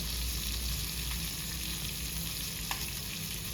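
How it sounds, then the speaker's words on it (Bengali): Chicken pieces for restaurant-style chicken tikka masala fry in hot oil, a steady close sizzle and crackle with a few brief pops, with no voices. "ওগুলো এবার আমি ভেজে নেবো এইভাবে"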